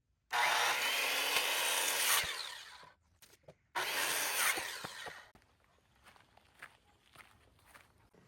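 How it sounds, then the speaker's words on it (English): Hand saw cutting an aged lumber board to length for a tree swing in the woods, steady loud rasping strokes for about two seconds, a pause, then another burst of sawing, followed by quieter knocks and shuffling. "Right now I'm gonna cut this to length"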